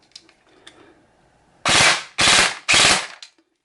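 A Bolt M16A4 AEG blowback airsoft rifle with BRSS recoil fires three sharp, loud bursts in quick succession, each a rapid mechanical rattle, up close with no talking.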